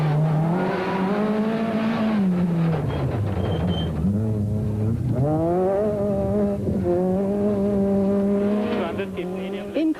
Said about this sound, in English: he guides the 200-plus horsepower left-hand drive Escort RS 2000 down the narrow tracks